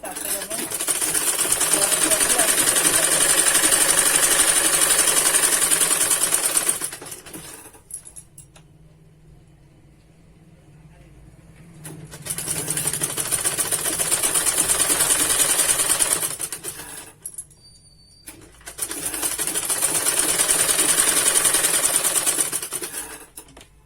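An electric sewing machine stitches a pocket on an Anarkali dress in three long, loud, steady whirring runs, separated by short quiet pauses.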